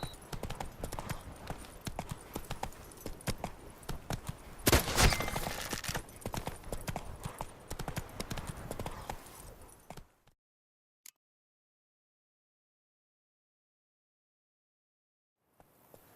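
Horse hooves clip-clop in a steady rapid rhythm for about ten seconds in The Witcher 3: Blood and Wine, then cut to silence, broken by a single brief click and a faint return at the end.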